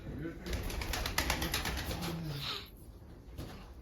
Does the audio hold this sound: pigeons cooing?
yes